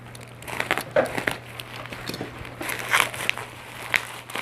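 Crinkly plastic wrapping on a carefully packed parcel being pulled open by hand, a close series of irregular crackling rustles and crumples with short pauses between.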